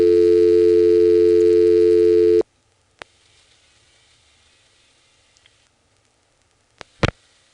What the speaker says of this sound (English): I'm going to pick up the phone and dial 49.